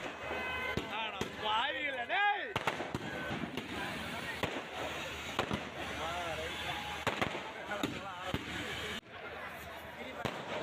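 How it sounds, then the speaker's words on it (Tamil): Fireworks closing a ten-day Thaipusam festival: scattered sharp bangs and crackles at varying distances over continuous crowd chatter and talking voices. "பத்து நாள்கள் நடைபெற்று வந்த தைப்பூச திருவிழா இறுதியாக வான வேடிக்கையுடன் நிறைவு பெற்றது"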